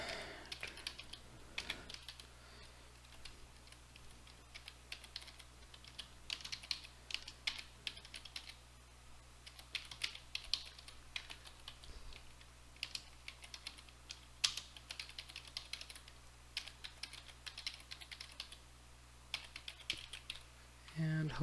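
Someone types a long command on a computer keyboard, making a steady patter of soft key clicks that runs throughout, quiet and close, with a faint hum underneath.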